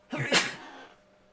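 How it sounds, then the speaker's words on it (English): One person sneezes indoors during a podcast: a quick breath in, then a single sharp, loud burst that fades quickly. "Is that a sneeze?"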